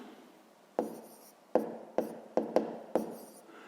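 A pen or chalk writes out a math exercise in several short, sharp strokes, each a distinct scratchy tap. The strokes are close and fairly quiet against a faint room hum, with no talking.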